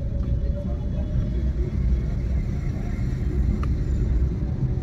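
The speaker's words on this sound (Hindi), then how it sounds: "बस अब गाड़ी खुद ब खुद ऑटोमेटिक स्पीड ले लेगी, जैसे उठती है ना गाड़ी।" A car engine rumbles steadily from inside the cabin during a driving lesson, a continuous low drone that holds at an even loudness throughout.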